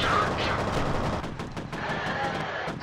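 Gunfire in the 2005 shooter F.E.A.R.: loud, rapid bursts of shots crackle in quick succession, echoing close by over the whole stretch.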